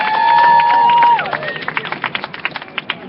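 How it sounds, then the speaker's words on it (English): A street rally crowd claps and cheers for activist Kathy Kelly, first under a lingering tone and loud background, then as a run of distinct scattered claps that continue to the end. "I think we should give a round of applause for Kathy."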